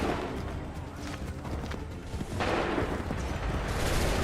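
A volley of musket fire rings out in Assassin's Creed 3, with booming shots and rumbling smoke-filled blasts building toward the end amid battle noise and distant shouting voices.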